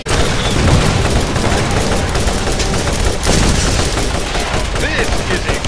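Dense, continuous gunfire from a shooting video game during a fight with bandits, with rapid shots and booms packed tightly together at a loud, steady level for the whole stretch.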